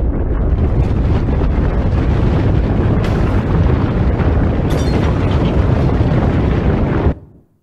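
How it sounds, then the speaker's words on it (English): Recorded earthquake: a loud, continuous deep rumble with roaring, wind-like broadband noise and a few brief sharper bursts, sustained for about seven seconds before cutting off abruptly. "That was an actual recording of an earthquake."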